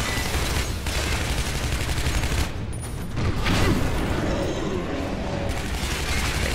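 Continuous gunfire in the video game Shadow Warrior, a dense rattle of rapid shots over game effects and a voice, running loud and steady throughout.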